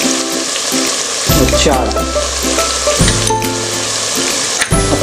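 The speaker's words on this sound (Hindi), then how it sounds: "पूरे मसालों को भूनना है अच्छी तरह से।" Whole masala spices and Agri red masala roasting in oil in a pan for homemade mutton curry, a steady close sizzle with stirring scrapes and bursts of louder crackle, under a few brief spoken words.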